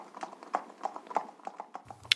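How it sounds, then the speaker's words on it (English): A horse trots on hard ground, its hooves clip-clopping in a steady, evenly spaced rhythm, fairly close and moderately loud, with no voices. "spurring his horse into a trot"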